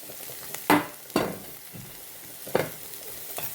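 Carrot pieces tossed into a pan with softened bitter gourd, stirred with a few sharp scraping clacks of a spoon over a low, steady sizzle, close by with no talking.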